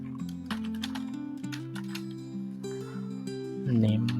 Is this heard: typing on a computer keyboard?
yes